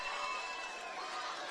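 Boxing crowd at the Star cheering during the final round of a women's bout, a faint, dense roar of many voices with no distinct words.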